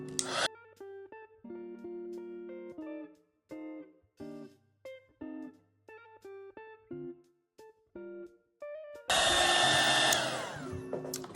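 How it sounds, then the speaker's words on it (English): A burst of hot air blasts loudly after a stretch of plucked electronic melody, the blower's steady rushing roar running to the end. "So I'm gonna just grab my heat tool."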